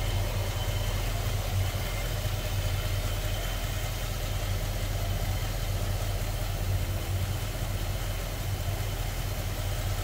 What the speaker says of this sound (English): Here's that V8. Be able to listen how it runs.